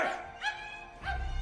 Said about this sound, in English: The dog won't stop barking